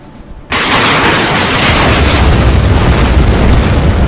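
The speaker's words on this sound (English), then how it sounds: "Let's open fire with our Nebelwerfer." Nebelwerfer rocket artillery fires in the WWII strategy game Order of Battle: Panzerkrieg. A faint lead-in gives way to an abrupt, loud, roaring salvo that holds steady for several seconds.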